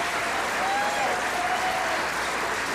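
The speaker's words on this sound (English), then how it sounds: "please join me in a round of applause for all of our contestants" Concert crowd at a fingerstyle guitar festival applauds the contestants, a steady, dense roar of clapping that holds evenly throughout, with a faint tonal whistle or cheer riding above it.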